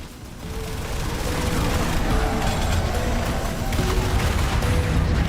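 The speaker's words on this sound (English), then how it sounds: "I think that was an explosion thing." Dense, rumbling blasts and gunfire-like bursts roll on continuously in the Incision video game, loud and chaotic with no clear single boom standing apart.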